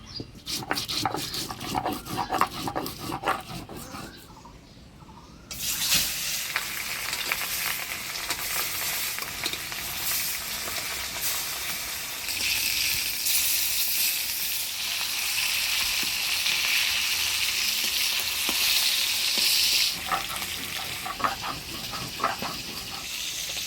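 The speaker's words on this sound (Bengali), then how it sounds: "এই কড়াইতে আমি মাছগুলো ভাজি নিই" Sea chela fish frying in a wok: a loud, steady hiss of hot oil bursts in after a quieter opening and carries on unbroken, with occasional crackles and pops near the pan.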